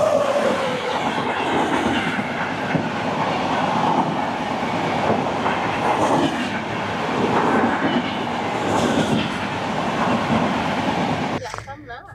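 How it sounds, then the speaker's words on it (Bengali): The Nandankanan Express, train 12816 from Delhi Anand Vihar Terminal to Puri, passes close by with a loud, steady rumble and rhythmic wheel clatter that continues unbroken before cutting off near the end. "তবে তার আগে কভার করে নিই ট্রেন নাম্বার 12-816 দিল্লির আনন্দ বিহার টার্মিনাল থেকে পুরী নন্দনকানন এক্সপ্রেস"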